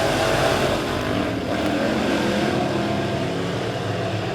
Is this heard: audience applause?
no